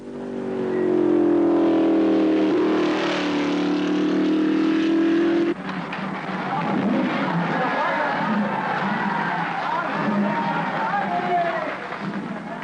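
Racing cars at the 1955 British Grand Prix roar past the pits with a loud, sustained engine drone that shifts in pitch as they pass, followed by broad crowd and track noise, with a commentator talking over it.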